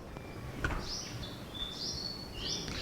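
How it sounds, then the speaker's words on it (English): A few thin, high chirps and short whistled bird calls sound in sequence over a soft background hiss, fairly faint and unaccompanied by speech. "Birds are singing, my dear friend."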